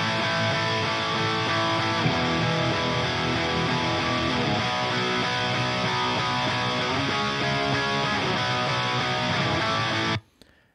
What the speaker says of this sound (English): so next up we have the guitars. We can start with the rhythm tracks.